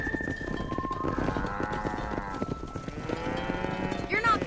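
A cattle herd in Red Dead Redemption lows with long overlapping moos, fairly close and continuous, over a low background rumble.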